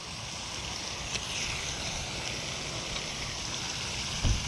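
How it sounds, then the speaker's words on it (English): Running water near a beach campsite makes a steady, broad wash blended with wind, with a few soft knocks and a low bump near the end. "Got some running water in here"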